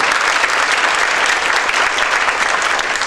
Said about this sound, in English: And a big applause for them, please.